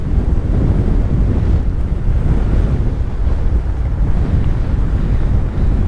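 Heavy wind buffets a GoPro microphone while mountain biking on a dirt track on a blowy day, a loud, continuous low roar that rumbles without pause and fills the whole recording.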